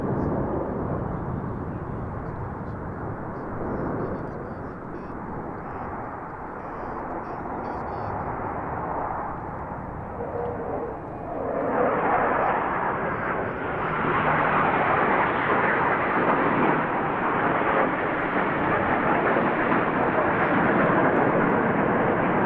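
Black Eagles aerobatic jets thunder overhead at the Royal International Air Tattoo 2022, a sustained broad engine roar that builds louder as the formation passes, with faint crowd voices underneath.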